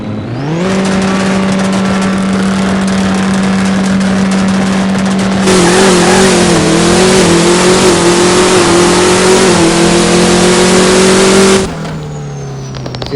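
A no-limit drag race car launches and holds a steady, loud engine drone. It climbs sharply to a harsher full-power roar partway through, then cuts off near the end, with no voices.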